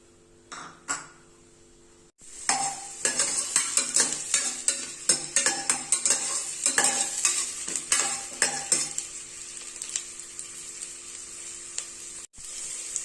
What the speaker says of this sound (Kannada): ಒಂದು ಅರ್ಧ ಈರುಳ್ಳಿ ಹಾಕೋತಾ ಇದ್ದೀನಿ. ಸ್ವಲ್ಪ ಫ್ರೈ ಆಗ್ಬೇಕಿದು.